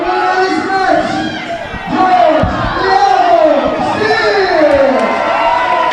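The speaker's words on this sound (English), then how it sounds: "The crowd is going crazy." A wrestling arena crowd cheers and yells loudly and continuously at a Johnny Valiant vs George "The Animal" Steel match, with shouts and whoops rising over the steady roar.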